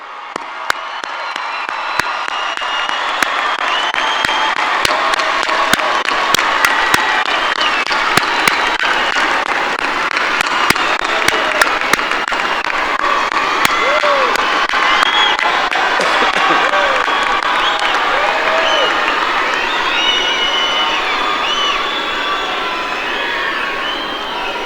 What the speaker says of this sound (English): let's give them a loud, loud round of applause